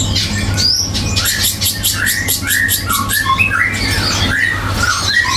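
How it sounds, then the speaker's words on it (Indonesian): A caged cicak combo songbird calls close by in a series of loud, bright squawks and chirps, repeated in quick bursts over a low steady hum, with no talk. "Jadi ini ada burung cicak combo."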